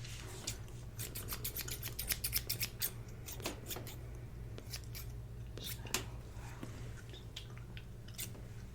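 Scissors snipping as if trimming hair, a quick run of crisp close clicks early on, then sparser single snips with soft rubbing between, quiet and intimate with no speech.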